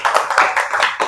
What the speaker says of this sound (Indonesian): tepuk tangan dulu untuk kita semua berarti ya